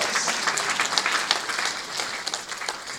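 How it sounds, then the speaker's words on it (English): An audience applauds at a ministerial speaking event in Jamaica, sustained crowd clapping of fairly even loudness that carries on without pause. "please give yourself a round of applause"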